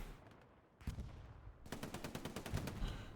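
Machine gun fire in Hell Let Loose at Omaha Beach, sustained rapid bursts of automatic shots, a short burst then a longer loud rattling stream.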